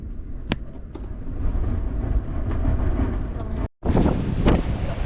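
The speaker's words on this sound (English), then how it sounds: "that wind is nuts. You can feel it blowing under the caravan" Strong spring wind buffets a camping caravan during bad weather, a loud, constant roaring rush with rattling and rumbling. It drops out briefly before returning as steady, heavy buffeting, with no talk.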